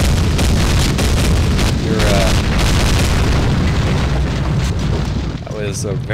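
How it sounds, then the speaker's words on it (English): A helicopter blows up in the Half-Life mod Heart of Evil: Napalm Edition, a video game, producing a sustained loud roaring boom and rumbling blast with debris crackle that fills the whole stretch. "That helicopter explosion brought to you by Michael Bay."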